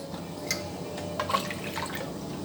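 Water is poured from a glass into falsa juice mixed with black salt, giving a short, soft splash and trickle with a few drips, close and fairly quiet.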